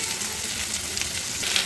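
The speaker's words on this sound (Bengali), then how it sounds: "একটু হলুদ আমি একটু দিয়ে এটাকে ভেজে নিচ্ছি।" Turmeric sizzling as it fries in a pan, a steady close crackle and hiss with faint stirring.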